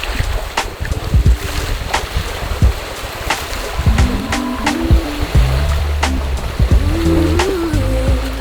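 Water rushes loudly and steadily past the hull of a sailboat running downwind under spinnaker in calm conditions, with wind buffeting the microphone.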